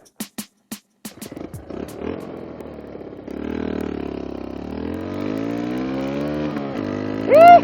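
A motorcycle with an unrepaired exhaust revs and idles, starting with a few sharp isolated pops, then a steady loud rumble that rises and falls, ending with a rising whine.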